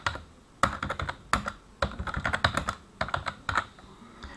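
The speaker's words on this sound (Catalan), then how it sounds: "fent un clic a sobre de la cel·la i començar a escriure" Brisk typing on a computer keyboard while entering text into a spreadsheet cell, uneven bursts of close, crisp key clicks with short pauses between words.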